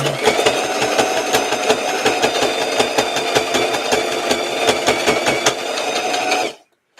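A sewing machine stitches a handmade doll, its needle hammering in a fast, steady mechanical rhythm close up and loud, running continuously for about six seconds before stopping abruptly.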